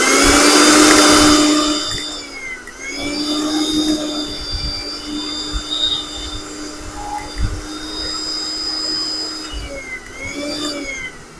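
A Pigeon mixer grinder running after its worn motor bush was replaced, a steady loud high-pitched motor whine with rattling underneath, pitch dipping briefly around the middle and again near the end, close by, no speech.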